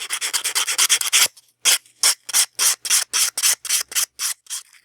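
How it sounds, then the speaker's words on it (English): Rice paper hoop earrings are sanded by hand with 400 grit sandpaper: a fast run of short scratchy rubbing strokes, a brief pause, then slower rhythmic strokes, each one close and crisp. "Now I can finish it up with a 400 grit sandpaper."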